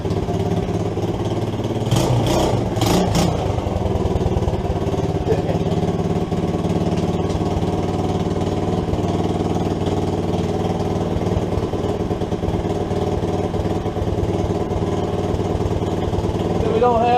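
An SSR 110cc pit bike engine with a new head, missing exhaust bolts and gaskets, runs close and loud at a steady idle, with a brief rev burst early on and talking under the engine.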